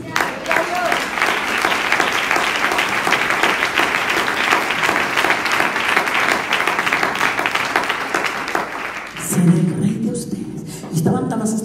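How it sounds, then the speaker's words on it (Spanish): An audience claps for God during a church talk, a long, loud, even stretch of applause that fades near the end as a voice takes over. "Denle un aplauso a Dios"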